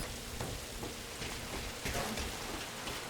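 Rain pours steadily in the video game Metal Gear Solid V: Ground Zeroes, a soft, even wash of drops with faint patters rising here and there.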